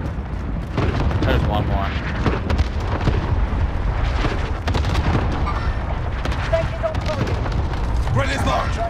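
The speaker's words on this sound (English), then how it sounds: "Allied cluster strike arriving." Cluster strike explosions in a video game land as a rapid series of heavy, rumbling blasts that keep rolling throughout, with people talking over them.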